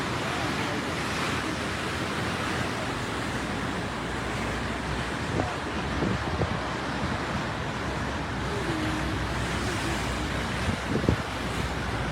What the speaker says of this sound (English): The waves over here are coming in this direction,